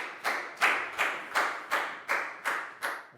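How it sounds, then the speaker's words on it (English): A classroom of students claps in a steady beat for a classmate, about eight crisp, evenly paced rounds of clapping close by with no talk. "High five and a big round of applause for Bangpon, please, guys."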